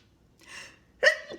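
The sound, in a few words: a person sneezing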